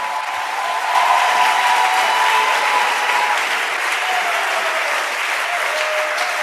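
A church congregation breaks into loud, sustained applause, a dense wash of clapping from many hands that swells after a second and holds steady to the end, with faint tonal voices threaded underneath.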